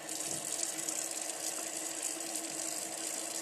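Warm tap water runs steadily from a faucet into a sink for hand washing, a constant close hiss and splash that holds even throughout, with no talking.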